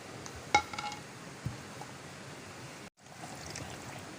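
Half a cup of water poured into a blender jug while making a mango juice drink: a clink at the start, then a steady, close splashing stream that breaks off briefly before resuming.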